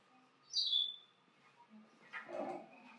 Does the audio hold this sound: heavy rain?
no